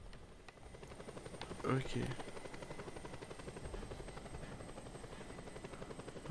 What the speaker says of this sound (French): Je suis à la trace avec l'hélico.